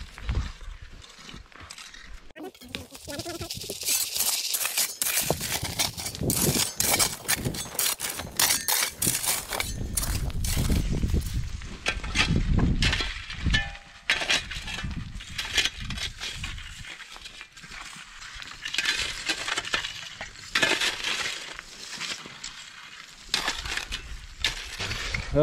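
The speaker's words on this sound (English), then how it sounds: "I'm gonna keep on digging" Digging through broken-up granite while prospecting for aquamarines on a mountainside brings repeated close scrapes, crunches and clinks of rock and tool, irregular and busy, with a few brief pauses and no talking.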